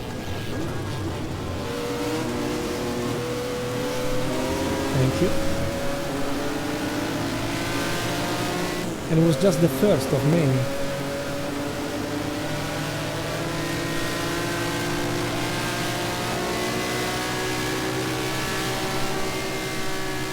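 A Ferrari race car with a naturally aspirated 12-cylinder 1.5 litre engine drones on at high revs for a long stretch, its whining pitch shifting as it accelerates, with a brief sharper burst midway and someone speaking briefly over it.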